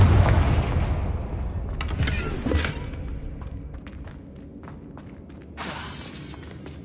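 A Confringo fire spell detonates in the Hogwarts Legacy video game, a loud booming blast at the start that decays into crackling debris and scattered sharp impacts, with a second burst of hissing noise near the end.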